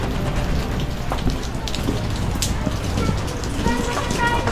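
Steady rain patters and hisses on surfaces nearby, a dense continuous wash with scattered drips, while voices murmur faintly underneath.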